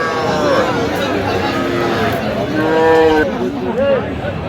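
Cattle moo loudly nearby at a livestock market in Rajshahi, several drawn-out lowing calls from young bulls and calves over a busy crowd murmur and people talking in the background.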